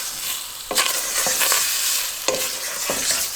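Raw chicken pieces stirred and sizzling in a greased pot with no oil, for chicken corn soup: steady close frying hiss with several scraping stir strokes.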